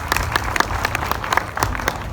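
A classroom audience claps for hackathon winners, distinct individual hand claps forming a quick irregular patter, fairly close and loud.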